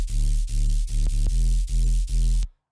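Reversed sub-bass synth with no effects, a mono bass for a future riddim track: six swelling low pulses, each building and cutting off sharply in a steady pumping rhythm, loud and dry, then silence.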